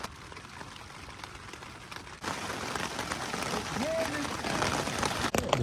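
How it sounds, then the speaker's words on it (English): Rain falling at a lakeside camp in Scottish woods, a steady broadband hiss that thickens partway through, heard close around the listener with faint movement sounds. "This rain is supposed to stop tomorrow morning"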